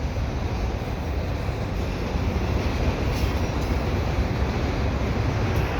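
A CPKC intermodal freight train loaded with orange Hapag-Lloyd containers rumbles past at close range at the Dorval ramps, a loud, continuous roll of wheels and railcars with no voices.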